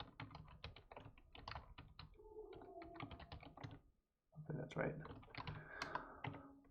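Typing on a computer keyboard, rapid close clicks in uneven bursts with a brief pause near the middle, while a person talks quietly over it.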